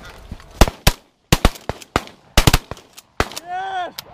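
Shotgun blasts ring out during an early-season goose hunt in Wisconsin, about ten sharp reports in uneven bursts, loud and close, with geese honking near the end and brief shouts between shots.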